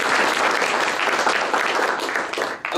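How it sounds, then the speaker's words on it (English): A conference audience gives loud, dense applause for a panel that includes an ambassador. The clapping stays full and continuous for a few seconds and then starts to taper off. "can we have another round of applause for our panelists?"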